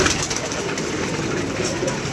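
Pigeons coo in a pigeon keeper's loft, a low steady murmur of calls over a dense, continuous background of flock noise.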